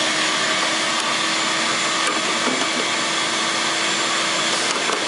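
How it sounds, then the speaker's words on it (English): A shop vac runs continuously close by, a steady roaring whine as it sucks debris from the cabin filter housing of a 1998 Ford Contour, constant in level throughout. "get the shop vac and clean all that junk out of there"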